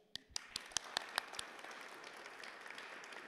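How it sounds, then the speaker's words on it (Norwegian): An audience at a Norwegian dictionary committee award ceremony claps for a winner, opening with a few sharp distinct claps that blend into soft, faint, fairly distant applause. "en ekstra applaus til Severin"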